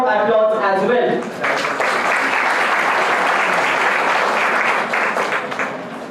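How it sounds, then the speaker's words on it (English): Audience giving a loud, sustained round of applause to welcome dignitaries at a university event, dense clapping that fills the room and follows a few brief spoken words at the start. "Let us welcome honorable dignitaries with a huge round of applause as well."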